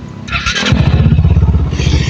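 A Rusi RS200 motorcycle, overheating before repair, cranks and fires up into a loud, rapid, throbbing idle close by.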